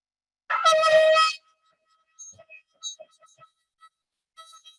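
A shofar sounds one short, bright, brassy blast lasting about a second, followed by faint, scattered small sounds.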